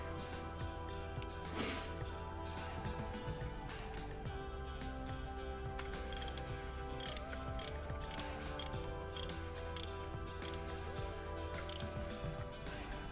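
A ratchet socket wrench tightens a spark plug on a GMC Yukon, giving irregular clicking and ticking close by over a steady background hum, with no talk.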